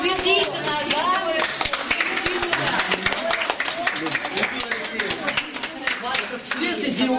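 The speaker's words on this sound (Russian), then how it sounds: "Так бурные аплодисменты" Clapping at a jubilee celebration for Lyudmila Lyadova at the Central House of Arts Workers, sharp claps ringing out steadily while people talk over them nearby.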